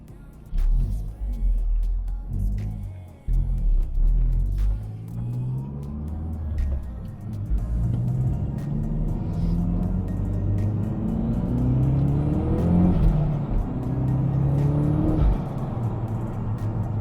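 A Mazda 3 MPS with an aftermarket front-mount intercooler accelerates hard on turbo boost, its engine note rising loud and close through several gear pulls with a steady road rumble between shifts.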